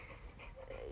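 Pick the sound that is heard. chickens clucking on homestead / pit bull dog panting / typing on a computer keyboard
pit bull dog panting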